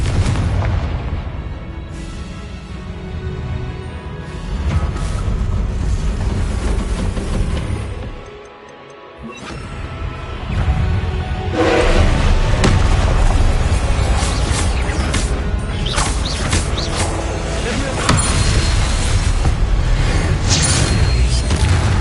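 Confringo blasting spell in Hogwarts Legacy, loud booming explosions and rumbling blasts layered over dense game combat noise, with a brief dip before the din swells again.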